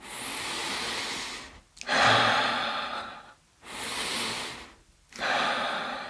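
Wim Hof-style deep belly breathing, three long, loud, close breaths in a steady rhythm, each rushing inhale and exhale separated by brief silent pauses.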